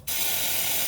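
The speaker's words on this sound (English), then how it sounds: "a little bit of spray." A single close, loud burst of penetrating spray on the pinch bolts of a Vauxhall Corsa's suspension, a sharp aerosol hiss starting abruptly and holding steady for under a second.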